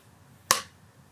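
A single sharp crack from a film slate clapperboard snapping shut on a second-stick take, close and loud, rising out of quiet room tone and decaying quickly.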